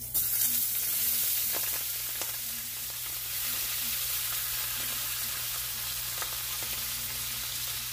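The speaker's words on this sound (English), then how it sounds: "We're going to go ahead and put these veggies in." Vegetables for a stir-fry medley hit a hot pan and sizzle steadily, with occasional clinks and stirring noises over the continuous frying hiss, close and moderately loud.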